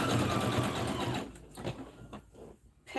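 A sewing machine zigzag-stitches white thread around heart appliqués on a Valentine's sweatshirt, running steadily and close for about a second before tapering into short, sparse bursts of stitching.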